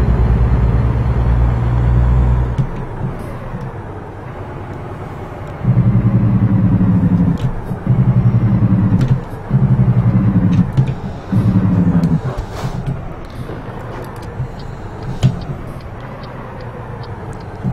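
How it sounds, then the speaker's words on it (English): Peterbilt 579 truck engine in a driving simulator, a deep steady drone with several pulsing bursts as it revs and shifts, fairly loud and without talk. "Racking the miles up on the old Peterbilt"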